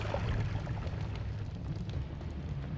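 A powerful explosion in an action video game, heard as a dense, sustained low rumble and roar that stays loud and steady throughout.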